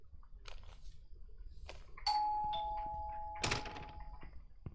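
Doorbell in the video game INFRA, a clear two-tone chime ringing out after some clunks and handling noises, followed by another sharp knock and the tone fading away.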